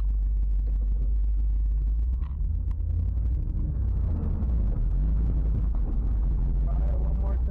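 A Nissan 240SX running rough on a test drive, with a loud, steady low engine drone and rumble from inside the car, plus some wind noise.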